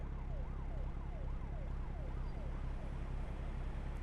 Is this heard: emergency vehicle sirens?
yes